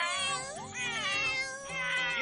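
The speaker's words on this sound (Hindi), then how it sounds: "ये देखिए 2 बिल्लियों की दोस्ती।" Two cartoon cats meowing back and forth in an animated show, a series of close, clear harmonic mews with rising and falling pitch, heard alone without talk.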